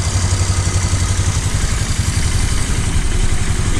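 A Polaris engine idles steadily after a stator wiring fix, with a loud, close, continuous clattering mid-pitched run and an even pulsing rhythm throughout.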